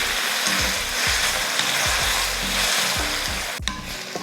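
Four tomatoes with turmeric powder and salt sauté in hot oil, giving a steady close sizzle with repeated scraping strokes of a spatula stirring the pan, and a sharp clink near the end.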